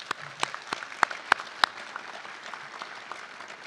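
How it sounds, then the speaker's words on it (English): Applause at a police academy graduation, a thin, scattered round of clapping with several louder, distinct nearby claps early on, then tapering to a lighter patter. "please stand so we can give you a round of applause"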